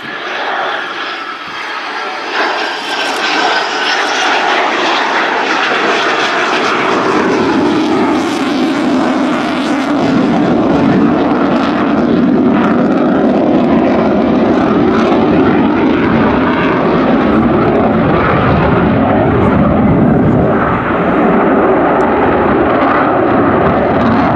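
A military jet flies low past the crowd at the Royal International Air Tattoo at RAF Fairford, wings extended and landing gear down, with a loud sustained engine roar that shifts in pitch as it passes.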